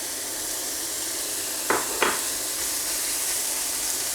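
Chicken filling sizzling steadily in a pan, a soft continuous fry hiss with two brief scraping stirs near the middle; no talk.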